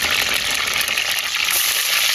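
Loud, steady sizzle and crackle of spices tempering (vaghar) in hot oil, a dense hiss running unbroken throughout.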